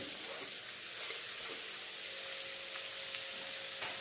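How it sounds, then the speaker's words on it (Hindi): Onion, garlic and ginger paste sautéing in hot oil for a Chinese-style biryani, with a steady close sizzle and crackle throughout, faint pops scattered over the continuous frying hiss. "तो चलिए इस प्याज को लहसुन अदरक को हम सौते करते हैं"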